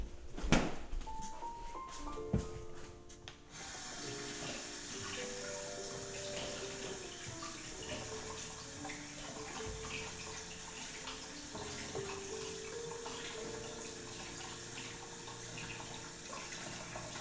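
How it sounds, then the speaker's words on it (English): Vegetables washed under a running kitchen tap, a steady close stream of water splashing in the sink, with a few clunks and knocks at the start before the flow settles into a constant rush. "Sit for a second while we wash our other veggies."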